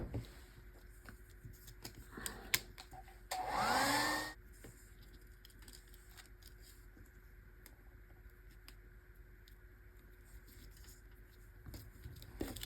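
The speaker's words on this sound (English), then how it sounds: "Let me get my dryer out." A hand-held dryer blows on freshly painted stickers for about a second, a steady loud whoosh that stands out against an otherwise quiet crafting table with faint handling noises.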